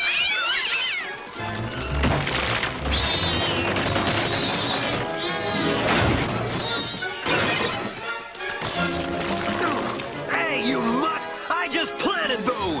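Cartoon cats meow and yowl in a haunted setting from Scooby-Doo on Zombie Island, a loud, dense run of caterwauling mixed with crashes, music and voices throughout.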